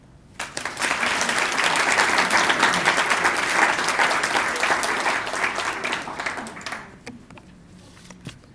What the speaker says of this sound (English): join me in another round of applause for all of our community volunteers